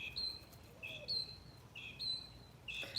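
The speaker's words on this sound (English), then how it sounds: "Oh, the birds sound great today," Birds chirp and whistle outdoors in short, high, repeated phrases about once a second, fairly faint over quiet background hiss.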